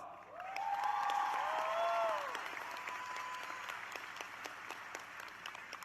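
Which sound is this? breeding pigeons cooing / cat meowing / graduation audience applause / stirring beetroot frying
graduation audience applause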